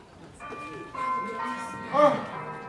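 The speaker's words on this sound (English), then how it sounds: "The morning bells." Morning church bells on Christmas ring out in several overlapping, sustained tones, swelling louder near the end while voices speak over them.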